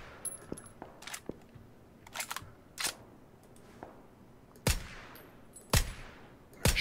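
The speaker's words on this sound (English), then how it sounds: "They're getting shot at too from somebody else." Scattered gunshots in PUBG, some faint and distant, others sharp and close, arriving irregularly with a few louder cracks near the end.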